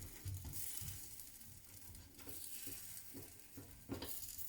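Poffertjes flipped one by one with a pointy fork in a pan, faint clicks and scrapes of metal on the pan over a soft, continuous sizzle, quiet and close.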